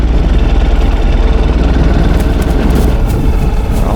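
A 2013 Ural Adventure Patrol sidecar motorcycle engine running, a loud, close, rough low thrumming with steady pulsing beats, no voices over it.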